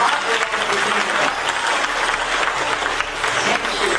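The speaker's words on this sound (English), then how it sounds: "Clap your hands, clap your hands." Audience applause for a fairy at a Peter Pan show, a thick, continuous burst of many hands clapping with crowd murmur mixed in.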